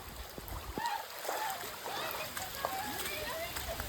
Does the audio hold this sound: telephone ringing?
no